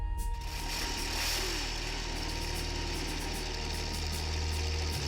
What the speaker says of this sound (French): Le grincement métallique et le rugissement sourd des moteurs de Panzer qui montent en ligne dans l'obscurité.